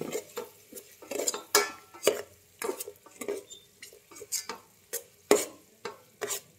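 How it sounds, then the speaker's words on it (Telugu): Tomatoes and green chillies stir-fried in a pan, rhythmic spatula scrapes and clinks repeating about every half second over a light sizzle, close and moderately loud. "బాగా వేయించుకుందాం"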